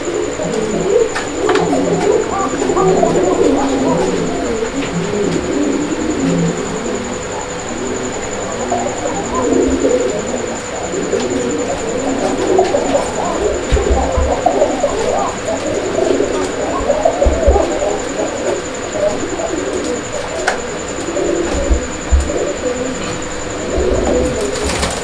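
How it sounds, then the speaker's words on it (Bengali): A pair of bright red Bombay pigeons coo close by in soft, repeated throaty rolls, with faint rustling and occasional thumps underneath and a steady high whine in the background. "আপনারা দেখতে পাচ্ছেন একজোড়া বোম্বাই কবুতর"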